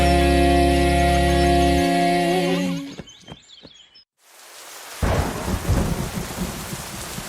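Sung music gives way to a rumble of thunder, then a pause, then heavy rain pours in with a strong, steady hiss close by.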